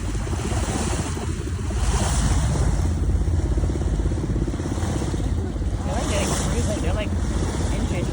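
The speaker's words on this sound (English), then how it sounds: "I love the big waves coming in" Big ocean waves roll in along a foggy coastline, a steady loud wash of surf with wind buffeting the microphone throughout.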